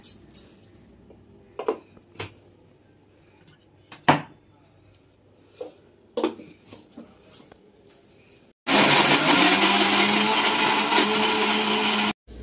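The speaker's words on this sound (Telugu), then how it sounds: "ఇప్పుడు చక్కెర వేసి మిక్సీ చేసుకున్నాం" A mixer grinder whirs loudly and steadily for about three and a half seconds, blending boiled raw mango pulp with sugar, after several sharp knocks and clatters from handling the jar.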